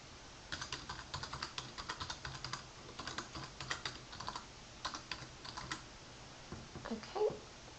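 Computer keyboard typing in bursts of quick, fairly faint keystrokes, pausing briefly between runs while an email address is entered, with no talking.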